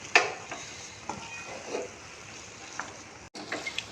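Semolina sheera with cashews, almonds and crushed cardamom stirred in a pan, with quiet scrapes and soft clinks spread over a low background, one brief dropout near the end.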